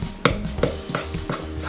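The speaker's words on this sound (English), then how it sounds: "I'm almost chopping the egg into more flour bits." Egg being cut and chopped into flour with a utensil while mixing fettuccine dough from scratch, giving several sharp, close taps and scrapes in an irregular rhythm of about one per half second, with no talking.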